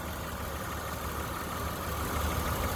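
A 2003 Honda Odyssey EX-L minivan with a VTEC engine and 149k miles idles smoothly, a steady, even hum with no voices over it.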